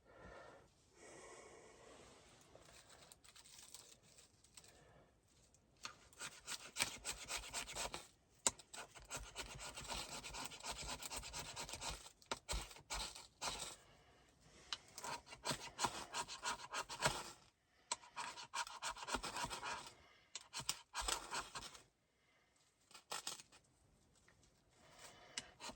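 A knife shaving wood into kindling at a snowy winter camp, making repeated rasping scrapes in bursts with brief pauses, close to the microphone.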